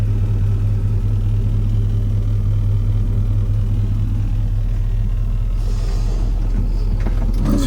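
A 1985 Chevy C10 square-body 4x4 truck with an LS engine swap, running with a deep, steady low rumble close by, no talking.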